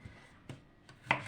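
A knife slices cucumber thinly on a board, with three separate sharp chops spaced apart, the last one the loudest, over a quiet kitchen background.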